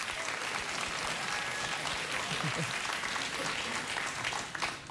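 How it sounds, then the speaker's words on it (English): A studio audience at a late-night talk show claps continuously, a thick, even wash of applause lasting the full five seconds, with a few voices underneath. "You're just clapping to shut me up."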